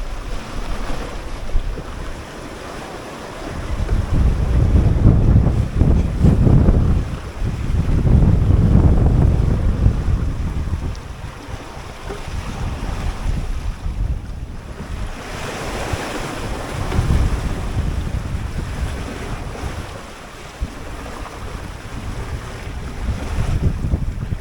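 Strong wind blowing about 20 knots from the southeast over rough seas around a 21-foot homebuilt sailboat on a solo Atlantic crossing: surging gusts, wave wash and microphone buffeting that swell and ease in long waves, no talk.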